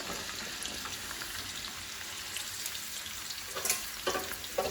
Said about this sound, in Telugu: ఆయిల్ వేడెక్కింది. ఇప్పుడు పచ్చిమిరపకాయలు ఉల్లిగడ్డలు వేసుకున్నామండి.